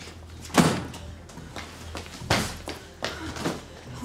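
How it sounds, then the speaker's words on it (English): A door is shut with a sharp thud, followed by several more knocks and clunks at uneven intervals, moderately close, with no speech. "Shut the door."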